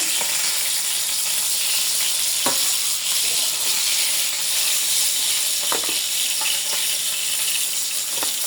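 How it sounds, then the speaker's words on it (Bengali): Constant bright sizzling of rohu fish frying in oil, close and steady, with occasional clicks of utensils against the pan. "এইভাবে আমি বাকি মাছগুলো ভাজে নেব"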